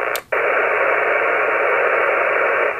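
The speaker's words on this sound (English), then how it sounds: "Let's just switch the noise blanker in." Steady hiss of radio receiver noise with an Elecraft KNB2 noise blanker switched on, a brief click and dropout near the start, then constant loud broadband static.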